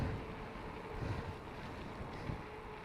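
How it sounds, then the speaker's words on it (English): Wind buffeting a microphone at a lake beach: continuous loud low rumble and gusty roar with no voices. "Oh, there's some wind."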